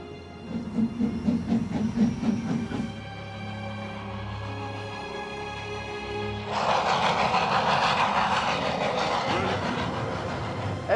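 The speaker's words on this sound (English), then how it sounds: "The engine that's pushing us today is the original engine from 1896," A Snowdon Mountain Railway train, pushed by its original 1896 engine, rumbles steadily up the Welsh mountain with a continuous mechanical drone and hiss that grows louder and rougher about two-thirds through.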